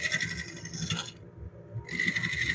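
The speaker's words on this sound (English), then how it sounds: "I'm going to try and use my scraper here" A woodturning scraper works a wooden bowl spinning on a lathe, making a continuous rasping scrape that pauses briefly midway and then resumes, close and moderately quiet.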